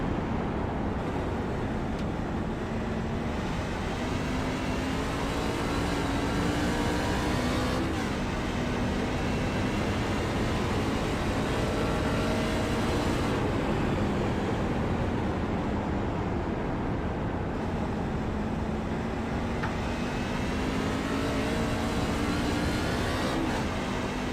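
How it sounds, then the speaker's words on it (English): A race car engine in a sim racing game at New Hampshire Motor Speedway drones loudly and continuously, its pitch dropping at several downshifts and then climbing again, with steady buzzing harmonics and no talking. "Still downshifting like he was earlier."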